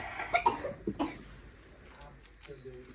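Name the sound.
cough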